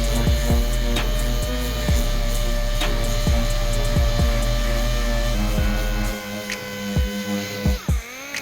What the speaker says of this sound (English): Now I'm gonna grab my mini DA sander with a piece of 80 grit.